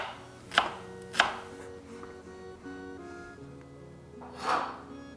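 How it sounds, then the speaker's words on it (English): A knife chops Belgian endives on a board, a few sharp distinct cuts spaced apart followed by a softer, longer slicing stroke, close and fairly quiet with no talking. "You've chopped these endives up now."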